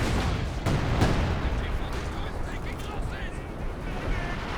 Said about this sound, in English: Artillery barrage onto this.